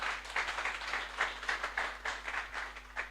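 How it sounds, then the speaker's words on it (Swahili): A modest audience claps at a community self-help group capacity-building meeting, with steady, rhythmic applause sustained throughout, moderately loud and a little uneven, with no voices over it. "Tumpige makofi."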